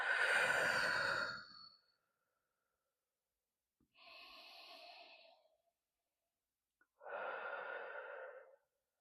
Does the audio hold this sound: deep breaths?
yes